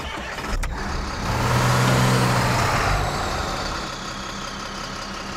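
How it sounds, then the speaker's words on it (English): A Ford F-350 Brute pickup in the Spin Tires game cranks and starts with a brief click, then its engine swells into a steady, loud idle rumble that eases back slightly, with no talking over it. "F-350. Let's start it up."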